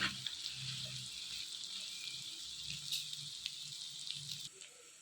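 Chicken pieces for chicken fry being stirred and fried in a pan give a steady, close sizzle with broadband hiss and a few scraping clinks throughout, cutting off abruptly near the end.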